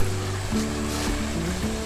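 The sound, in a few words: flowing stream water at a canal stream junction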